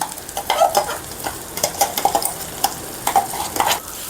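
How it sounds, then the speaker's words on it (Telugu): Onion mint paste fries over tomatoes and onions in a pan for half egg curry, a steady sizzle under repeated scraping stirs of a utensil against the pan, close and without talk. "ఒకసారి బాగా కలుపుకోవాలి."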